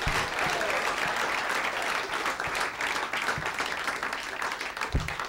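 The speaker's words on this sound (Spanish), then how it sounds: "puede dar aplauso al Señor" Church congregation applauding during a sermon, a sustained roll of many hands clapping at even volume that thins slightly toward the end, with a couple of sharper nearby claps.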